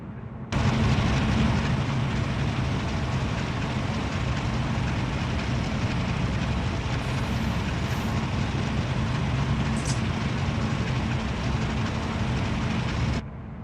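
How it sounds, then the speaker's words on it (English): A manifest freight train rolls past in the Run 8 train simulator, a loud continuous heavy rumble and roar that holds steady for about thirteen seconds before cutting off abruptly, with no voices. "Here comes that manifest train."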